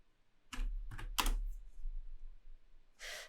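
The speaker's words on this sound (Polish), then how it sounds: "wybieram opcję Move, e, klikając M na klawiaturze" Three quick key presses on a computer keyboard while choosing a move command in 3D design software, followed by a softer fourth tap, close and distinct against a quiet room.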